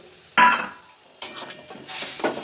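Banana flower is stirred in a pan with milk and water, making three close bursts of wet scraping and clattering, separated by brief quiet gaps.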